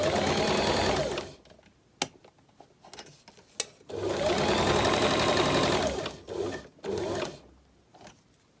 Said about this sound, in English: And then stitch all the way to the tip.